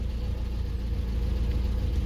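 A Lada Kalina engine idles steadily with a low, continuous rumble that swells slightly as the throttle opens on its own, heard close and alone without speech.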